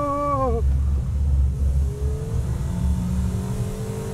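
A sports compact car at full throttle on a racing circuit gives a loud, steady engine drone. A rising tonal whine sweeps up briefly at the start and later returns faintly as the car keeps accelerating.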